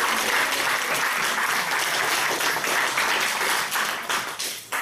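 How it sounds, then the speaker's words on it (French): A church congregation at a Saturday testimony service breaks into sustained, dense applause that holds steady and loud throughout, with no voices standing out. "on peut applaudir le Seigneur pour ce moment béni"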